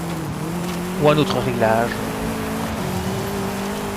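An off-road buggy is driven in Forza Horizon 5, giving a steady engine drone with a brief tire screech near the middle, under someone speaking French.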